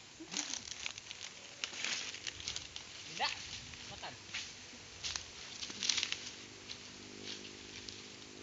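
Rain patters and crackles on foliage on a village hillside where langsat fruit is being gathered, an irregular scatter of soft close taps and ticks with no talking.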